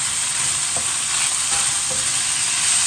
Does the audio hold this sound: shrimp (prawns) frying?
yes